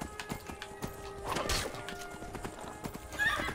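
Horse hooves in the video game Skyrim, a steady run of clip-clop hits at close range with a brief neigh, alone with no talk.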